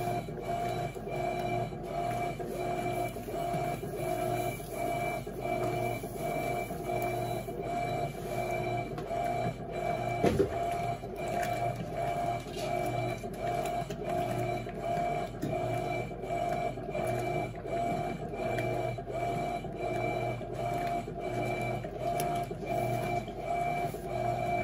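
An Electrolux Turbo 12kg top-loading washing machine runs a heavy-duty wash cycle at close range, a steady low mechanical hum and whir with faint rhythmic ticking and one small knock partway through.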